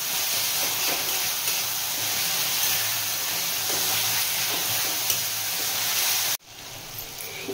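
Five-lentil dal being stirred in a pot just after sugar is added, a steady close hiss with soft scraping strokes running throughout, then a sudden drop to near quiet at the very end.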